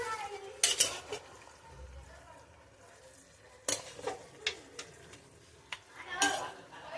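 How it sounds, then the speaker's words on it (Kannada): Turmeric is stirred into a pot for country chicken sambar, with a few sharp clanks of a spoon against the metal pot separated by quieter scraping, and a faint sizzle underneath. "ಅರಿಶಿನ ಹಾಕಿ ಸ್ವಲ್ಪ ಎಲ್ಲ ತಿರುಗಿಸಿದೆ."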